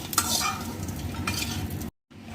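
Turkey berries frying in hot oil in a pan for a Tamil vatha kuzhambu, stirred with a utensil: a steady close sizzle with scraping stir strokes, breaking off briefly near the end.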